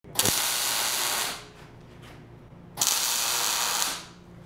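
Two loud bursts of arc tack welding on steel blocks for an arc-weldable strain gauge, each a harsh sustained crackling hiss lasting about a second, separated by a quiet pause.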